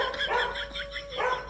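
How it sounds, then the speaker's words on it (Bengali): A dog barks in a yard, two quick yapping bursts a moment apart, heard fairly close over a steady background hum and hiss. "উঠোনে শুয়ে থাকা কুকুরটাও ঘেউ ঘেউ করে তেড়ে আসলো।"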